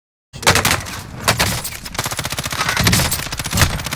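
Rapid automatic gunfire from a Warzone Plunder match, loud bursts of shots rattling almost continuously after a brief silence at the start, with some single reports and sustained strings of fire.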